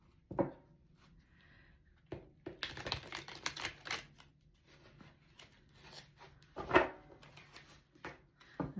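Thick cards are shuffled in short, quiet bursts of riffling and rubbing, separated by near-silent pauses, close by and with no talking.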